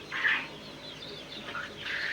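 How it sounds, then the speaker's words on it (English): Young chickens in a farm grow-out pen cluck and call softly, with a few brief, repeated squawks rising over a quiet background and no talk. "These are chicken grow outs."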